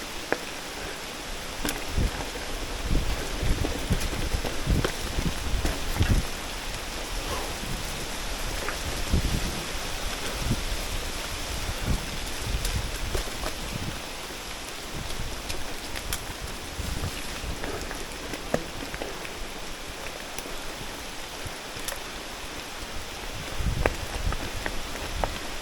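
Steady rain falls outdoors in wet weather, with broadband patter and gusty wind buffeting the microphone, continuous and fairly loud for the whole stretch with no voices.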